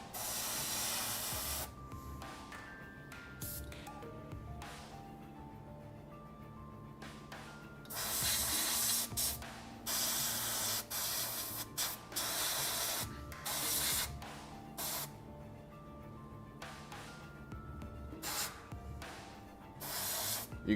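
An airbrush sprays paint in short, close bursts of hiss, with pauses between passes over a faint steady background hum.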